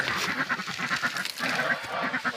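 A crowd of geese and ducks being fed grain and corn honk and quack continuously, close by and busy, with overlapping calls and no pauses.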